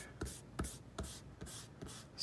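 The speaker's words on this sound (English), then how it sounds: "let's erase all these pencil lines" An eraser scrubs pencil lines off paper in quick repeated strokes, about six faint, close rubbing swipes at an even rhythm.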